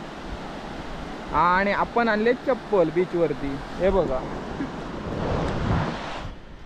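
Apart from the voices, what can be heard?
sea waves on a beach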